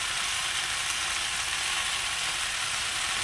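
Boiled potatoes with chili, salt and a little sugar fry in a hot pan with a steady, dense sizzle that stays loud and close throughout, with no one speaking.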